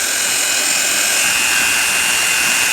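Self-leveling cement being mixed with a spinning paddle mixer, a loud, continuous high whine and roar that stays steady and close for the whole stretch, no voices.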